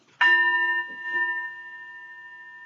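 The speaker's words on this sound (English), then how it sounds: "So we begin with inviting the bell." A mindfulness bell is struck once to open a loving-kindness meditation, giving a clear, close strike followed by a long, pure ringing tone that slowly fades, with a faint second touch partway through.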